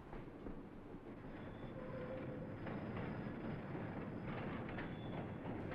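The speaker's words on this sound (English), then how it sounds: "Finally, we make it to the private railroad property and run through the Harrison Avenue yard area." A North Shore electric train runs through the Harrison Avenue railroad yard on private railroad property, giving a steady, fairly faint rumble with light rail clatter and no talking.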